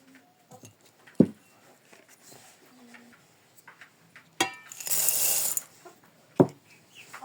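Grain feed for pigeons being mixed by hand, with scattered dry rattles and clicks and one louder rushing pour of grain partway through.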